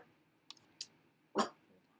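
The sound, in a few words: dog barking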